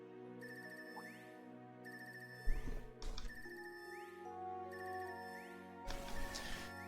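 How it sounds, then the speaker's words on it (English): An electronic phone ringtone in the video game The Legend of Heroes: Trails of Cold Steel 3 plays a repeating melodic pattern in bursts, with a couple of brief noisy hits in between, fairly quiet and alone. "This ringtone. Haven't heard this before."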